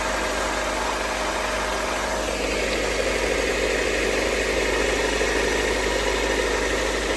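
A 1997 Honda Civic engine left sitting for over six years runs at a steady, rough idle, a loud continuous drone with constant mechanical hum and vibration throughout.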